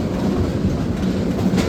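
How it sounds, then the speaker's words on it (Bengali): A train runs along the rails during an Eid holiday journey in Bangladesh, heard from on board as a steady, loud low rumble with faint rhythmic wheel clatter and no talk. "ট্রেন জার্নি, এটা অনেক কষ্টের পরে আসলে।"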